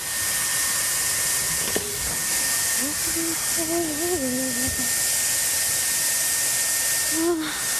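A hair dryer runs as a steady loud whoosh throughout, with a voice speaking over it.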